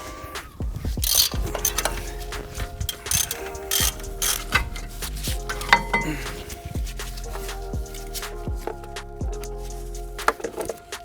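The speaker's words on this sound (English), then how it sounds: "I'm going to take off the caliper. It's held in with two 18 mil bolts." A hand ratchet clicks steadily and close by as it backs out the 18 mm brake caliper bolts on a BMW F30 340i xDrive, its rapid pawl ticking running in repeated bursts for several seconds with no talking.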